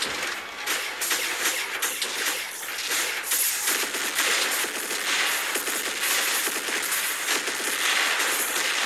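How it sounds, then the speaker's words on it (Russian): Gunfire hitting a robot in War Robots, continuous rattling bursts and metallic clinks layered over a steady mechanical din, loud and unbroken for several seconds. "Блин, меня сверху стреляет, уроды."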